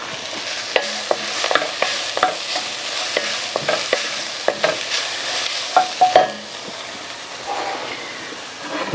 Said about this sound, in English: So now we'll add our garlic. Let that cook for a few seconds.